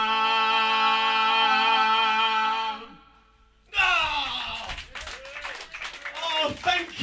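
An audience at a club gig in the Westgarth Social Club, Middlesbrough, breaks into applause after sustained musical tones fade. The clapping is lively and close, with voices speaking over it.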